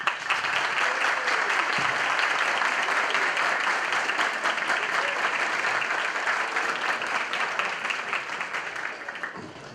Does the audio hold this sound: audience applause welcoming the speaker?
yes